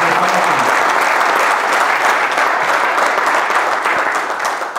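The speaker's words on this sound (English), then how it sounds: "But give yourself a round of applause because you're here." A crowd at a men's conference claps loudly and continuously, a thick, even wash of applause that runs the whole time and tapers slightly at the end.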